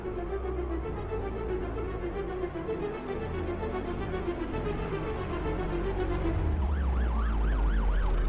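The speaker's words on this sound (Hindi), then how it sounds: "पुलिस की गाड़ी आ रही है," A police car siren in a Hindi-dubbed South Indian action movie wails in with rising and falling sweeps over a dense, loud background, becoming prominent in the last two seconds as it approaches.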